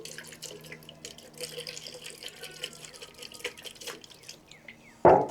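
Liquid splashes and drips while being poured carelessly around a patina-finished Chevy S10 pickup, with soft trickling and dripping under light background noise, ending in a sudden louder splash.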